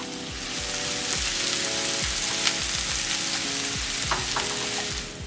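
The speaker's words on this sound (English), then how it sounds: "I wanna saute this for about 5 minutes until the onions are a little soft there." Half a large onion sizzles and sautés in a hot pan for red wine stuffed cabbage, a loud, continuous frying crackle with stirring scrapes and pops, with no talking.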